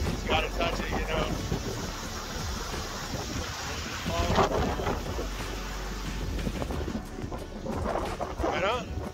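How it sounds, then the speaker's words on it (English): Strong wind buffets the microphone outdoors at the Blue Hole in Santa Rosa, New Mexico, as a steady, rumbling roar beneath a person talking. "Super windy out today, sorry."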